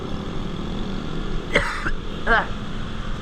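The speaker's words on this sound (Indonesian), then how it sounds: "Sorry ini gue batuk-batuk mulu nih" Two short, harsh coughs from a man, close by, one just after the middle and another a moment later, over a steady low rumble like a moving car.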